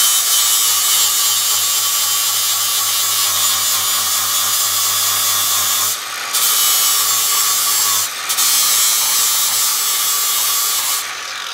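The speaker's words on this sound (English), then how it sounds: "this is not the cutting wheel, it's just the flap wheel, the sanding wheel." A power tool with an abrasive flap sanding wheel grinds loudly and continuously against a surface, briefly easing off twice before resuming its high-pitched rasp.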